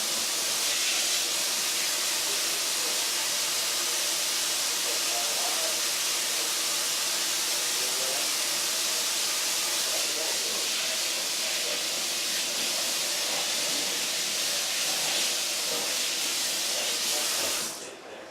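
Beef liver and onions steam and sizzle under a dome on a hot cooking surface, a loud, steady hiss that runs unbroken and cuts off abruptly at the end.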